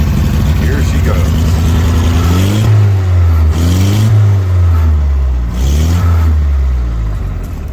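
Engine of a 99-year-old Austin Seven car starting and settling into a loud, steady idle with a few revving swells, close by, under talk.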